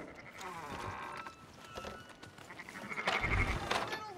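Sheep bleating in a livestock setting, a few wavering bleats spread across the clip, one louder and nearer toward the end, with low background noise and no clear talk.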